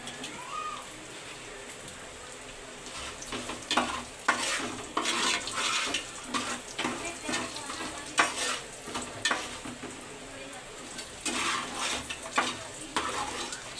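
Chicken frying in a pan for fried rice gives a close, continuous sizzle, broken by repeated scraping stir strokes that come in irregular bursts throughout.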